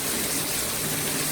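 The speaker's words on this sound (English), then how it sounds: "you can see the water running there" Rainwater runs through a garden in Carolina in a steady, close, broadband rush with no pauses, with no voices over it.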